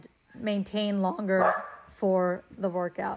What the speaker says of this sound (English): that was my dog barking as I try to record this voiceover